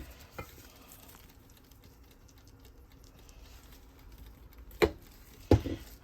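Eggplant slices fry in a pan with a quiet, steady sizzle, and a few sharp clinks and knocks from the pan or utensils stand out near the end, with no talk.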